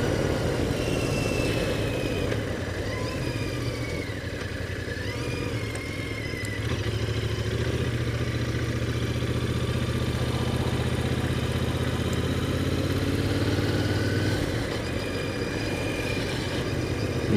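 A Royal Enfield Interceptor 650 motorcycle engine rumbles steadily at close range, holding a low, even drone throughout with no clear revving.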